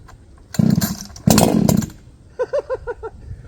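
A chainsaw with an oversized exhaust muffler revs loudly in two raw, roaring bursts, then drops to a choppy, stuttering idle of short rhythmic pulses.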